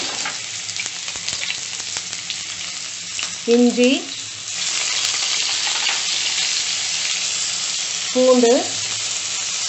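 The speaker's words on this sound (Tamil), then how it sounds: "பச்சை மிளகாய் நல்லா சேர்த்து வதக்கிக்கோங்க ஹை ஃப்ளேமில்" Steady, close sizzling of onion and green chillies sautéing in hot oil over high flame, with a person speaking briefly twice over it.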